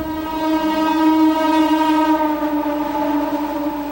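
A train horn sounds one long, loud, steady blast that holds for the whole stretch, with a rich layered tone and no voices.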